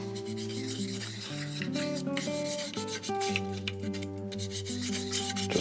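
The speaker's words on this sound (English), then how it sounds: "Just rub that lube right into the plastic." Lube is rubbed by hand into a plastic brake lever on a Trek bicycle, giving a close, steady scrubbing friction under continuous background music.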